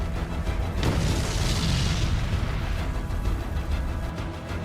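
Mine detonating under a Russian tank: one sudden heavy boom near the start, followed by a long rumbling roar that fades gradually.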